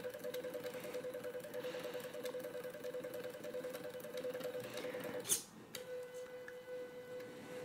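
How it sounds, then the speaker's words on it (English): A stepper motor in a DIY tea making machine runs fast with a steady high-pitched whine and buzz, broken by a sharp clack just past five seconds before the hum resumes, faint and close. "This is as fast as I could get this stepper motor to go."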